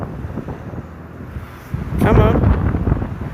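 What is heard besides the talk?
strong coastal wind at Folkestone, Kent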